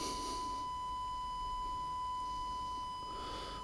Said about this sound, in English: 1000 hertz tone